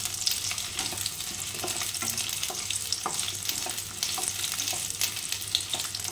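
Eggplant pieces sautéing in about two large spoons of hot oil, a steady close sizzle with occasional stirring scrapes, no voices.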